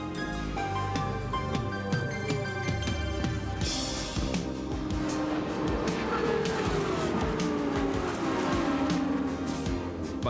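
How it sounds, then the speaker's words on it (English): Indy race cars, including a Buick-powered and a Cosworth-powered machine, roar past at the 1990 Indianapolis 500, with loud high-revving engine whines sweeping in pitch as they pass one after another over continuous track noise. "Cogan with a Buick-powered machine"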